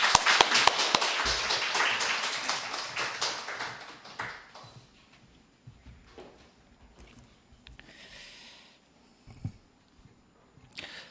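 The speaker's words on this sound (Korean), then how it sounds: "우리 박수로 환영하겠습니다" A church congregation at a summer revival meeting claps to welcome a pastor, a brisk round of hand claps that peaks at the start and fades out within a few seconds, leaving near quiet with a couple of stray taps.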